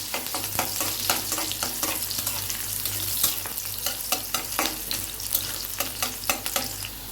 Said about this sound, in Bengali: তেলটা গরম হয়ে গিয়েছে, এখন আমি পেঁয়াজ কুচিগুলা দিয়ে দিচ্ছি। এখন আমি নেড়ে চেড়ে দিব।